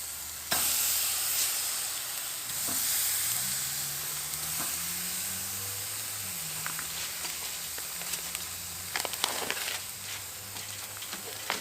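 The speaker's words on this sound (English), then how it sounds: "Love that sizzle." Steady sizzling of food cooking on a hot Weber Jumbo Joe charcoal grill, a continuous crackling hiss with occasional sharper pops, no voices.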